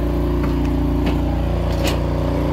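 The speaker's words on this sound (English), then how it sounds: "Obviously it's revving up because everything is on in the trailer." Generac GP3000i inverter generator powering a travel trailer with microwave, air conditioner and fridge all running, its engine revved high under load: a loud, steady mid-pitched drone with faint clicks on top, no voices.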